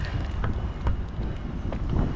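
Strong wind buffeting the microphone at a lakeside catch of tawilis fish, a steady loud roar with gusty surges throughout, no speech.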